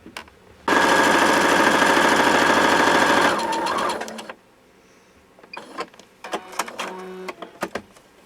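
A sewing machine runs a fast, steady stitch burst for about three seconds while sewing a diagonal seam across fabric for a lanyard, then slows and stops, followed by scattered handling clicks and rustles.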